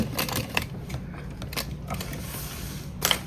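A sewing machine back-stitches along a bag seam, its needle mechanism whirring with rapid rhythmic clicking and a few sharper knocks, close and continuous.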